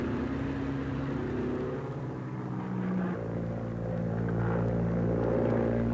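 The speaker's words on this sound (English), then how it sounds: "one of our aircraft, an Avenger, returns with a missing left wheel and makes a safe landing" Avenger aircraft with a missing left wheel landing on a carrier deck, a loud continuous propeller engine drone that shifts pitch partway through, with no voices over it.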